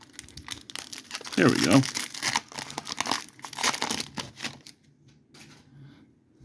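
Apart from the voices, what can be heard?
tearing open Spider-Man Magic card pack foil by hand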